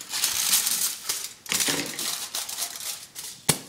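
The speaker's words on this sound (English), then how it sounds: "You just cut the tin foil here like this." Tin foil being snipped and crinkled while shaping a homemade fishing lure from a spoon, with a series of close, crisp cutting and rustling bursts and a sharp snip near the end.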